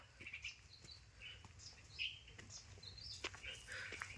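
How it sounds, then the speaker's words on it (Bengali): Quiet jungle near a waterfall with faint birdsong, sparse chirps and short whistles from a distance over a low, steady ambient rush. "পাখি ডাকছে"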